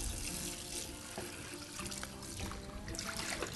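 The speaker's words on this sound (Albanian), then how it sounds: "Do të hedhë shumë pak ujë, po jo ujë të ngrohtë, ujë të ftohtë." A small amount of cold water splashes and trickles into a mixture being prepared in a kitchen, a steady wash of liquid noise that stays close and continuous.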